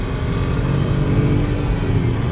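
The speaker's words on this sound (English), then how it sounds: "with that turbo kicking in" A Peugeot 308 1.2 THP 130 turbo engine revs up steadily under acceleration, a loud continuous low drone with a turbo's rising whine, close by and with no talking.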